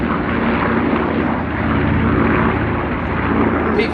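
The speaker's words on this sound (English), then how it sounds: "B-25 in front, Mustang on the left, Corsair on the right," Warbird formation of a B-25, Mustang, Corsair and P-38 passing over an airshow, a loud, steady propeller-engine drone that fills the whole clip without pause.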